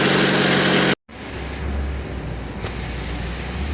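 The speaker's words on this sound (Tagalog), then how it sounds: "Check natin yung engine vibration niya kung ano yung problema." A 2011 Hyundai Sonata engine idling with abnormal vibration from a broken engine bracket stud, a steady low hum after a brief loud cut at the start, near and without talk.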